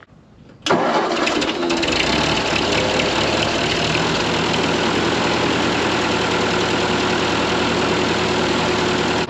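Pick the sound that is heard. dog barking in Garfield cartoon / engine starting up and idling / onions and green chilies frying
engine starting up and idling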